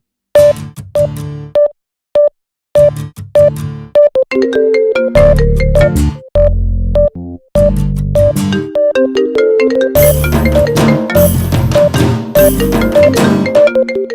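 A melodic phone ringtone plays loudly and close, its short musical phrase repeating over and over with brief gaps, and no one speaks.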